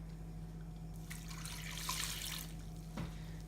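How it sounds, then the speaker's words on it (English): Water from a tap runs and splashes into a cooking pot on a stovetop, a soft hissing flow that swells in the middle and then tapers off, heard over a steady low background hum. "So we're just going to add water."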